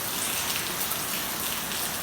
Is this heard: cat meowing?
no